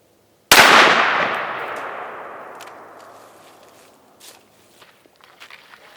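A single sharp .223 rifle shot fired through a scope at a padlock outdoors, loud and close, with a long decaying echo and faint small knocks afterward.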